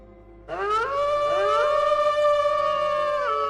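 A wolf howl played as a sound effect in a tabletop role-playing game rises sharply and holds as one long, loud, sustained wail with layered pitch bends, no voices over it.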